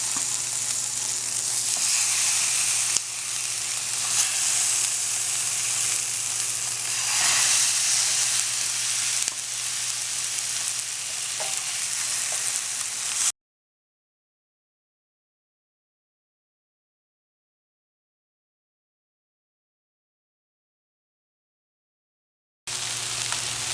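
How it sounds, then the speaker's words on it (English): Fish pieces pan-searing in a hot pan, a steady, loud, close sizzle and hiss that holds for about thirteen seconds, then cuts to silence before the frying returns briefly. "So my pan is nice and hot, and I'm just going to add the fish pieces"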